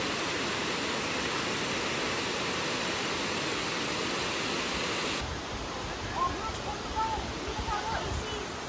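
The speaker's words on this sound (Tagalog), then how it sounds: "The waterfalls created by volcanic eruptions." A waterfall formed by volcanic eruptions roars as a steady, loud broadband wash, dropping a little quieter partway through while faint voices come and go beneath the rushing water.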